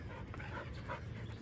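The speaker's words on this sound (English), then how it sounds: "Dogs are amazing to watch" Dogs pant steadily close by and whimper now and then, against a constant low background hum, with no talk.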